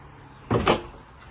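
A magnet-held, gasketed cabin door on a 2023 Aviara AV32 outboard boat shuts with a quick double knock, two close, solid thuds in a quiet interior.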